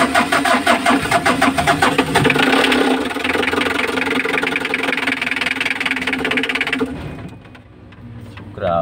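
Mitsubishi engine running noisily after an oil change, with a loud rapid knocking clatter over a steady mechanical drone that continues for about seven seconds before cutting off abruptly and leaving quiet background.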